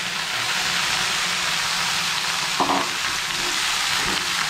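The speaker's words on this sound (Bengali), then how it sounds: "পেঁয়াজটা আমার লাল হয়ে গিয়েছে। এর মধ্যে লাউ শাকের ডাঁটা আর আলু রেখেছিলাম, এগুলো দিয়ে দিলাম।" Bottle gourd stalks and potatoes added to browned onions in hot oil, sizzling and frying steadily with a brief clatter of stirring partway through.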